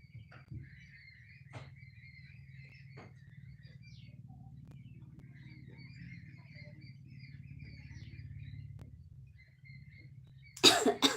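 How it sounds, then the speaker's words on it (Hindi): A quiet low hum runs throughout, with faint chirps here and there, until a sudden loud cough breaks out near the end. "खांसी आ रहा है हमको"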